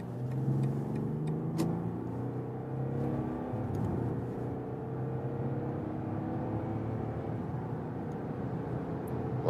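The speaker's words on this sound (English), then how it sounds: "we'll start at about 50 kilometers an hour and accelerate it out" A BMW 7 Series G70 M Sport accelerates from about 50 km/h on the German Autobahn, heard from inside as a quiet, smooth engine and road hum rising in pitch, with steady tire and wind noise.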